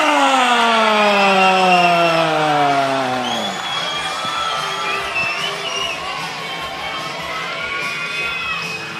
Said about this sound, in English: The crowd just erupting in this fight